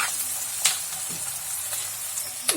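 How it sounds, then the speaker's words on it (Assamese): Broiler chicken meat sizzling in a pan of fried onions, a steady close frying hiss with a few sharp clinks from stirring against the pan. "এতিয়া মাংসখিনি দি দিম মই এতিয়া"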